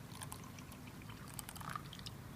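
Water poured from a container into a mixture for a kitchen solution experiment with Nestea, a steady close trickle with faint splashing running throughout.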